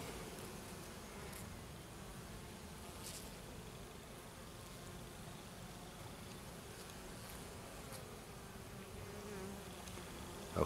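Faint, continuous buzzing of small black bees at a mountain apiary, several insects droning steadily throughout with no talking.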